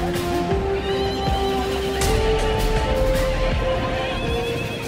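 Horses being ridden and trained at a kokpar horseback game neigh and whinny loudly and close by, with faint hoof clip-clops and a busy outdoor background.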